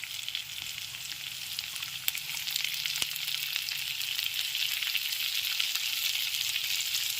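Chopped garlic and onion fry in hot oil in a pan, giving a steady close hiss of sizzling with a couple of faint stirring knocks and no talking.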